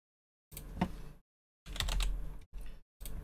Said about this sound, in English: just simply type in GTA server artifacts